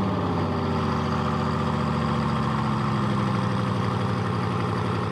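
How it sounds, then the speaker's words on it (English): A Bugatti Veyron engine on a cold start holds a steady, loud, dense idle with a deep pulsing rumble and no pauses, close to the car and free of talk. "Here is a clip of the Bugatti Veyron on a cold start."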